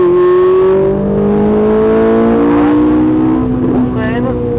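A Ferrari 458 revs hard after a shift into fourth gear on the Haute Saintonge circuit, its engine note climbing loud and close, with a voice talking over it.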